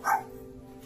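A dog lets out a single short, fairly quiet bark near the start, followed by soft background noise.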